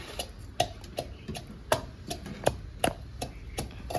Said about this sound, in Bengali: এবার থেতো করে দেবো কাঁচা লঙ্কাটা।